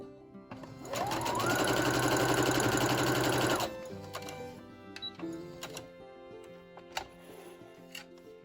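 A sewing machine stitches together stacked scrap fabric pieces for a dog dress, running in a steady fast whir for about three seconds before stopping, followed by a few small handling clicks and taps.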